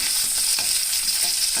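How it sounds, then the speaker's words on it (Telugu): Green chilies and curry leaves frying in hot tempering oil for a Telugu coriander-onion curry, giving a steady, close, fairly loud sizzle with faint stirring scrapes throughout. "ఇప్పుడు చూడండి, తాలింపు కొంచెం వేగింది కదా. పచ్చిమిర్చి, కరివేపాకు కూడా వేసి"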